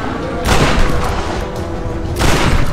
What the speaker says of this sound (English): I can now shoot him in the face.